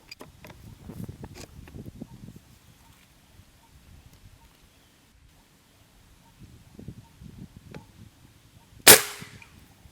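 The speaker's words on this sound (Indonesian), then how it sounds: "Lanjut tembakan ketiga." A single loud PCP air rifle shot cracks out near the end, preceded by quiet shuffling and handling sounds.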